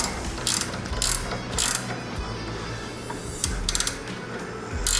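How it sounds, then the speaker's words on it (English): A 3/4 ratcheting wrench tightens the clamp of a Wheel Dock EZ-UP center stand on a 2022 Harley-Davidson Road Glide ST, giving close, crisp bursts of ratchet clicks in short repeated strokes with brief pauses between them. "favorite little wrench that I use, 3/4 with the ratcheting end. We're just gonna pop this guy on and just start tightening."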